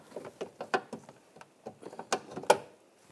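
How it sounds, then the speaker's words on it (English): A 7mm socket ratchet working loose a bracket inside the door of a 2014-2018 GMC Sierra, a series of quiet, close, irregular clicks and small metallic knocks. "We're going to remove this bracket, use a 7mm socket."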